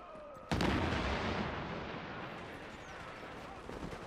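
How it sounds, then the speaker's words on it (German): A grenade goes off in the video game The Division, a sudden loud blast followed by a long rumbling, crackling decay that fades over several seconds, with faint game noise behind it. "Da flog die Granate!"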